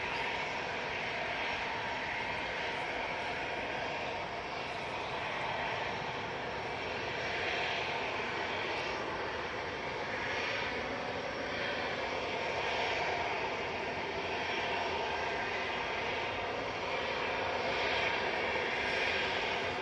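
An EasyJet jet airliner departing for Reykjavik roars steadily at a distance, a continuous broadband engine rumble that swells slightly toward the end, with no talk over it.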